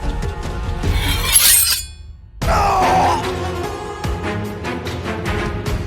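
A glass display case shatters as a body crashes into it during a cartel fight, heard as a loud burst of breaking glass, a brief silence, then another crash with tinkling shards and scattered debris.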